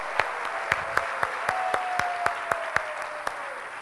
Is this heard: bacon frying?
no